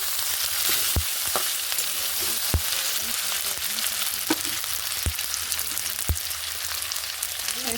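Potatoes and vegetables fry with dried fish in hot oil, giving a steady close sizzle broken by occasional sharp knocks of a utensil stirring in the pan.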